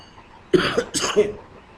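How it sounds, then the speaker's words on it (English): Two or three harsh coughs in quick succession, close and fairly loud, with quiet room tone before and after. "Suffering from cough."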